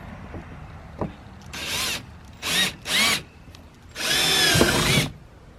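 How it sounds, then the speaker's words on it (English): A power drill whirs in three bursts while drilling a hole to fit mud flaps on a Kawasaki KRX 1000: two short runs, then a longer sustained one, loud and close, with small clicks between. "I'm gonna start this hole and drill out"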